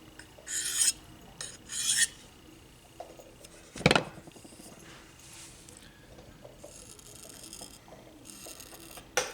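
Knife blade stroked on a diamond sharpening stone to shear off the burr, heard as short, bright rasping strokes in bursts, with a sharp clack in the middle and a faint low background hum.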